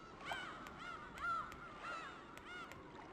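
Crows caw repeatedly in the Disaster Report video game, several distinct harsh calls spaced across a quiet outdoor ambience with no voices.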